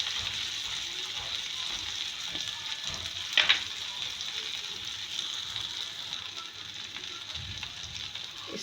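Shami kebabs fry in a pan with a steady, soft sizzle, plus a brief clink of a utensil partway through.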